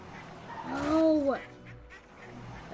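Loud quacking from ducks in a video game, one drawn-out nasal call rising and falling in pitch over soft background noise.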